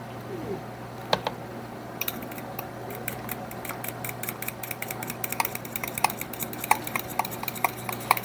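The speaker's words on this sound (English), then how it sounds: "we're going to temper some of these eggs" Whisking hot mixture into cold eggs to temper them in a kitchen, making a fast run of light metal clinks and scrapes against a bowl that quicken over time, over a steady low hum.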